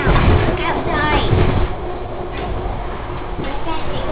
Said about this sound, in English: We're on a train right now.